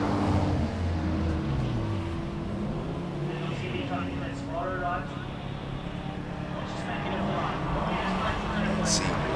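A Porsche 996 911 GT3 racing up a hillclimb course, its engine note rising and shifting through gears at a steady loud level, with a commentator talking over it throughout.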